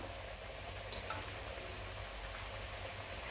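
Potato chips frying in mustard oil, a steady broadband sizzle that holds evenly throughout with no talking, broken by one brief scrape or stir near the start.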